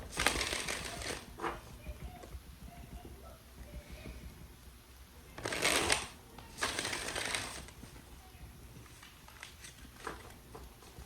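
Brisk papery shuffling of tarot cards in a few short bursts, close and fairly quiet, with faint rustling in between.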